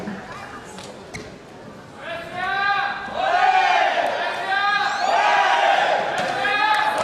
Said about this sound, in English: Crowd willing on.